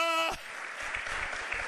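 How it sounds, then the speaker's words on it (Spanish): Brief applause from a church congregation breaks out after a sustained sung or spoken tone ends, with scattered claps continuing at moderate volume. "Dale aplauso al Rey esta mañana"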